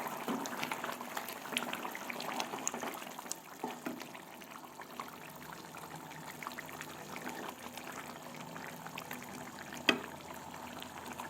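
Meat curry simmers in a covered pot, giving a faint, steady bubbling and gentle liquid burbling throughout, with no voices.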